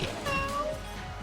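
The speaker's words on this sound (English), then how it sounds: "This cat's different." A cat gives a short, rising-and-falling meow at close range, one clear call over a faint background murmur.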